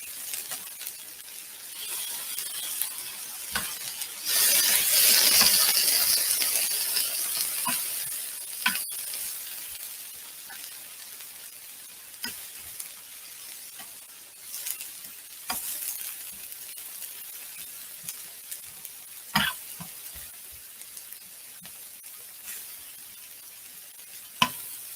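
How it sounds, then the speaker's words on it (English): Pieces of tempeh sear on a hot griddle with a constant sizzle, swelling louder as they are spread out and stirred, while scattered clicks and scrapes of a utensil punctuate the frying. "spread these out so they can all get some space on the griddle"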